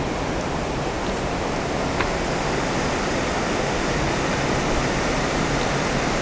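A branch of Bureau Creek flowing beneath the Hennepin Canal bridge, heard as a steady, loud, unbroken rush of water without pause or voices.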